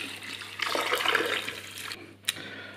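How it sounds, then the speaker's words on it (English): Water pours into a pressure-cooker pot over vegetables with bay leaves and black peppercorns, a steady close splashing rush for about two seconds that cuts off, followed by a brief clink. "add enough water to cover everything"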